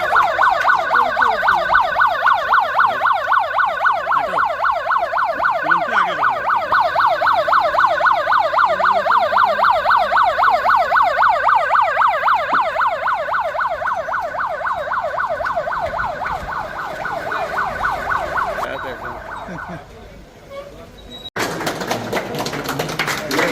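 A loud wailing ambulance siren cycles rapidly and steadily for a long stretch, close by, then cuts off abruptly into street noise.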